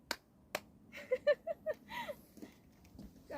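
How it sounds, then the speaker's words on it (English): A few sharp hand claps keep time with a children's clap-along song sung outdoors in a forest; the claps are faint and spaced unevenly between soft singing voices. "If you're happy and you know it, clap your hands."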